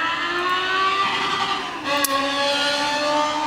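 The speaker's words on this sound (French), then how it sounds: "Bien sûr, fallait que la moto passe maintenant." A motorcycle drones past close by, its engine tone rising and shifting as it goes, loud and steady throughout.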